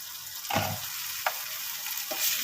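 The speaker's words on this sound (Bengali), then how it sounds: "একটু আঁচটা বাড়িয়ে দিয়েছিলাম একটু ভাজা ভাজা করবো বলে" Grated bottle gourd chhechki frying on raised heat hisses steadily in a pan, with a few scraping stirs of a spatula breaking through the sizzle.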